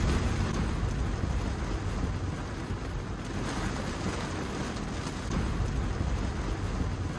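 Heavy rain drums on a car during a rush-hour drive with self-driving engaged, a dense, unbroken wash of patter and road noise with no speech.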